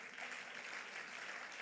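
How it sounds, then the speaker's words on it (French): Church congregation at a Sunday service clapping together in praise, a steady wash of applause from many hands, faint and distant throughout. "Quelqu'un peut-il acclamer encore une fois Dieu avec moi"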